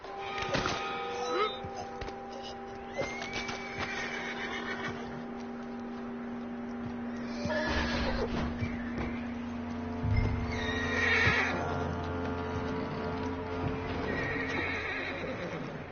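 A horse neighs and whinnies in Red Dead Redemption 2, with clip-clopping hooves, harness jingles and a steady ambient hum, voices speaking intermittently over the animal sounds.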